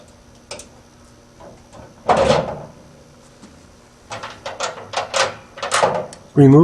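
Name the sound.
removing the door of a hardmount trunnion enclosure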